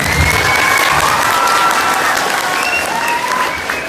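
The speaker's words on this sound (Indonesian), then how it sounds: "Tepuk tangan buat yang jomblok" Loud, sustained applause from a crowd, dense clapping filling the whole stretch with a slight fade toward the end.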